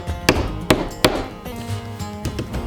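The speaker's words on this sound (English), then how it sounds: "You can either just simply take a hammer, make a nice little indentation" Hammer tapping drywall compound to dimple the surface, three sharp knocks in quick succession followed by a few softer taps, close and fairly loud.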